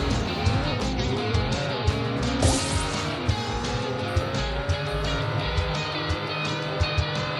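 A car racing video game played on a Buzztv X5 Android TV box, with a steady roaring engine, shifting revs, and intermittent tire squeals and thumps under continuous game sound, all fairly loud and with no talk.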